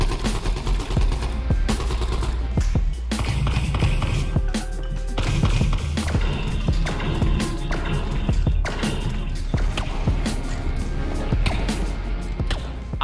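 Gunfire from a virtual reality shooter video game: rapid bursts of shots and sharp cracks in irregular clusters, loud and close, mixed with thuds and clatter throughout.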